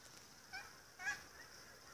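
Two faint honks from geese in the distance, brief and soft, set against a quiet outdoor hiss.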